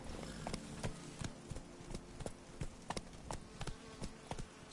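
Roach, Geralt's horse in The Witcher 3, walks with steady clip-clop hoofbeats, irregular but continuous, close by and moderately loud.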